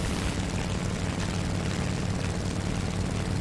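Bomber aircraft engine droning in the combat flight game War Thunder, a loud, steady propeller roar with no breaks, heard alone without any talking.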